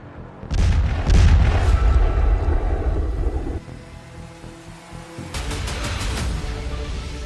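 Heavy artillery guns fire in a military setting: a loud boom with a long rumbling roll, followed after a pause by a second blast. No voices are heard.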